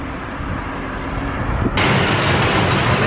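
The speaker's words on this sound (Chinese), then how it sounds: "我现在要去坐吊火车" A suspension railway train runs past with a steady, loud mechanical rumble. The rumble swells to a louder roar partway through. No voices are heard.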